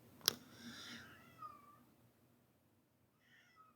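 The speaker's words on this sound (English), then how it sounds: "my cat, she's meowing" A cat meows a few times at low volume, a drawn-out mew followed by a short, fainter one after a pause, with a soft thump at the start.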